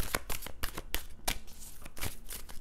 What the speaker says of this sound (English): I'm going to shuffle the Star Tarot